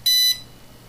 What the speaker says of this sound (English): the speed controller is going to go through a number of beeps through its initialization sequence